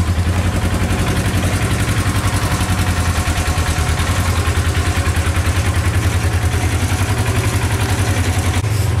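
A RZR side-by-side fitted with tractor tires idles steadily after its first start-up of the day, a loud, close, even engine drone that runs throughout.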